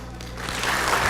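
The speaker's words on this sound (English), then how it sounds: "one more round of applause." Applause rising from a school board meeting audience, starting quiet and swelling into fuller clapping over a brief moment.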